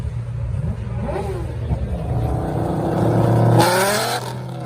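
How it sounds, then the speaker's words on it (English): A muscle car engine idles with an uneven, choppy, lumpy rumble, then revs up briefly near the end, close and loud. "you should hear this thing too, the chop when it rolls in."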